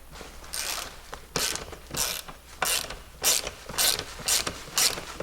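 Hand ratchet snugging bolts on the seat mounts of a Polaris RZR side-by-side during a Corbeau seat install, a series of close, bright clicking bursts repeating in steady strokes with no talk.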